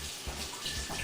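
Cold tap water running over fennel as it is rinsed, a short, soft, steady splashing stream close by with no talking.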